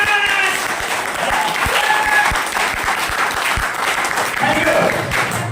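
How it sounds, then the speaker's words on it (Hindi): A seminar audience in Bhabua breaks into loud, sustained applause, a dense wash of hand claps filling the hall, with voices talking over it. "एक बार जोरदार ताली।"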